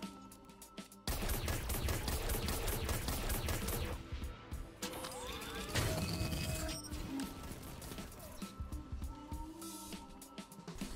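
Sidearm gunfire in a first-person shooter video game, a rapid stream of crackling shots followed by bursts of lighter firing, electronic whines and impact clatter, loud and dense throughout with brief gaps between volleys.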